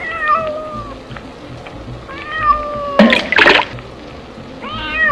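Cats meow again and again, clear and close, in short rising and falling cries. A brief burst of splashing water breaks in partway through.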